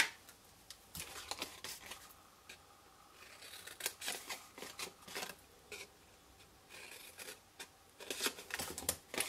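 Scissors snipping through paper for a flower favour box, repeated crisp close cuts coming in short bursts with brief pauses and paper rustling between them, no talking.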